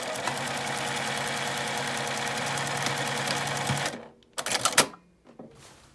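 A domestic sewing machine stitches the seam of a large unlined drawstring knapsack bag with a 1.5 cm seam allowance, ending in a backstitch. A steady, rapid, close-up whirring runs for about four seconds, then stops, followed by a few short bursts.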